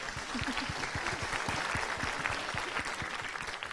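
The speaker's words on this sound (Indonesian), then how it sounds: "tepuk tangan" Steady applause from a studio audience at an Indonesian children's Islamic TV show, dense clapping running evenly throughout at moderate loudness with no voices on top.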